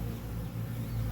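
Honey bees buzz close by around a queen cage, a steady low droning hum with slight wavering pitch, continuous and fairly quiet.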